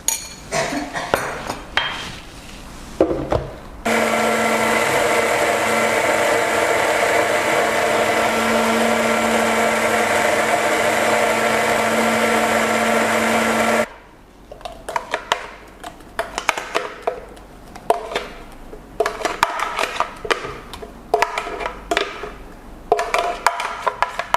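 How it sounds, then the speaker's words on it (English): A blender whirs loudly and steadily for about ten seconds, blending a coffee frappe base of instant coffee mix and milk syrup, with clinking kitchen utensils before and after. "Finally, we need to make it smooth and blend properly my frappe base."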